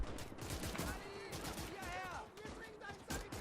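Machine guns mounted on vehicles fire in rapid bursts during a WW2 battle in Gates of Hell, crackling over distant explosions with a voice talking beneath the gunfire.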